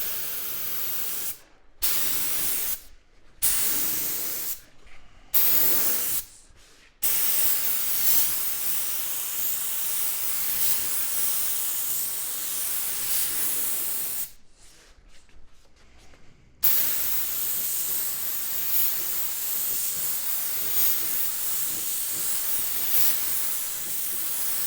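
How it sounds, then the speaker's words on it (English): Spray gun laying down a lacquer finish coat, a loud steady hiss in several short bursts early on, then long continuous passes broken by one brief pause, close up with no talking. "You saw me spray back and forth this way, and then you saw me come right back and spray this way."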